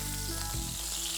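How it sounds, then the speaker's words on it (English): Eggplant pieces frying in hot oil in a pan, a brief, steady sizzle with crackling hiss, close and moderately quiet, with no voices. "You can hear the nice sizzling thing."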